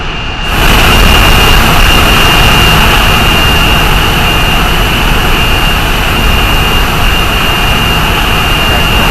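A rocket engine roars at lift-off in a space game, a loud, constant, broadband rumble that starts abruptly and holds steady without any voices.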